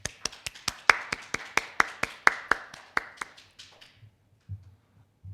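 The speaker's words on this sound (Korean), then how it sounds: "최지현 연사님께 큰 박수 부탁드리겠습니다." A small audience claps after a keynote talk on autonomous driving at a conference session: sparse, crisp, evenly spaced claps that gradually thin out and fade away after about four seconds.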